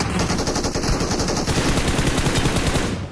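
Rapid automatic gunfire in PUBG Mobile, dense and continuous throughout, with sustained bursts of loud shots filling the whole stretch without pause.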